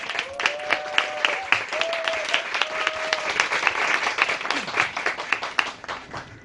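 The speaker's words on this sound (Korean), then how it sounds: "명곡 박수로 여러분 환영해 주십시오" A book concert audience claps to welcome performers, brisk close applause with distinct individual claps and some voices and whoops mixed in, lasting the whole stretch.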